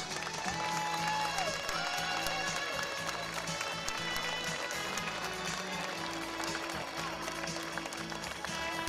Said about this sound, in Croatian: Pozdravimo jednim velikim pljeskom kreatoricu Gordanu Radić.